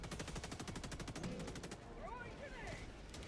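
Rapid automatic gunfire from the video game Helldivers 2 rattles loudly in a steady burst through the first half, then fades as people talk over the game.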